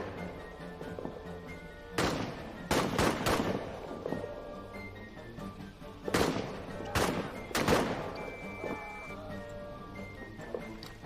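Gunfire rings out in a trench warfare video game, scattered loud rifle shots and short bursts in two clusters, sharp cracks with echoing tails over a low tonal background hum.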